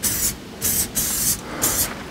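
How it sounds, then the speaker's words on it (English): Penetrant dye sprayed from an aerosol can during a non-destructive testing demo: four short, loud hissing bursts with brief gaps between them, close to the microphone. "It says to spray on a light layer, thin layer, and then let it dwell"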